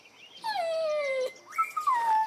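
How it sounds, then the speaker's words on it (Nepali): Small cartoon puppies whimper in two drawn-out, high falling whines, close and clear against a quiet background. "यहाँ त सानो सानो कति राम्रो कुकुरहरू रहेछ"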